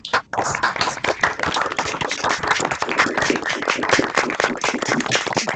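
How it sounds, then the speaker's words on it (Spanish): Online attendees clapping for Alfonso through open microphones on a video call, a loud, continuous patter of many overlapping hand claps, slightly compressed and clipped in tone. "le diéramos un fuerte aplauso a Alfonso"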